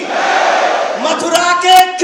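A large crowd at a religious gathering shouts the chant Jai Shri Ram in unison, loud and close, with one sustained roar of many voices swelling toward the end.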